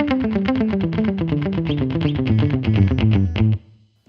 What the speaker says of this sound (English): Those kind of cascading, bouncing effects where we want both the direct note and the echo to be the same tone and the same volume